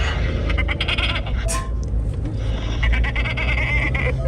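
A voice imitates a goat's bleat in a recorded voice note, a wavering nasal baa held over a few seconds, loud and close, with a second bleating call following.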